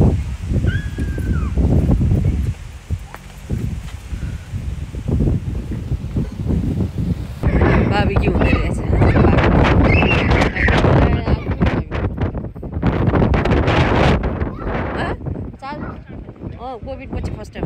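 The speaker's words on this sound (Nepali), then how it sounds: "हावा कस्तो हावा लागेको." Strong outdoor wind buffets the microphone in gusty rushes beneath people talking.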